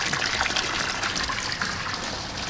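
Water is siphoned out of a betta fish breeding tank, a steady, close, fairly loud gushing and trickling rush that continues without a break and without voices.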